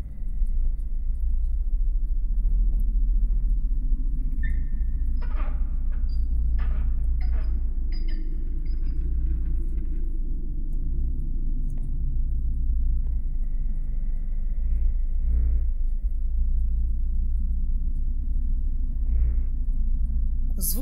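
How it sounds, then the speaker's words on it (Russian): Turning a valve in the indie horror game Lair of Torment makes a cabinet slide aside with a heavy low rumble that grinds on steadily, with brief metallic clanks and scrapes over it. "Вентиль отодвигают шкаф?"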